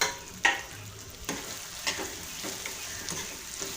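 Chopped spring onion and cabbage cooking in a pan for Schezwan fried rice, a soft steady sizzle with occasional stirring scrapes and clinks, close and moderately quiet, no talking.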